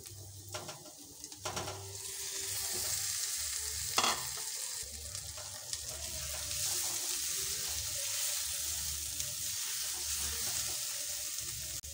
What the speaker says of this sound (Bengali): এবার দিয়ে দেব ভেজে রাখা ডিমগুলো।